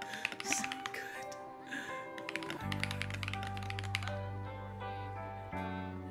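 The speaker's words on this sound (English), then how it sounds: "I've never typed in on a keyboard like this in my whole life" Rapid clacky typing on a mechanical keyboard, close to the mic, the keystrokes running in quick bursts over a steady low hum and a brief voice.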